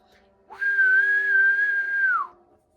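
A person storytelling a fantasy tabletop game imitates a whistle with their own mouth, giving one clear, loud, sustained tone of about two seconds that dips at the end.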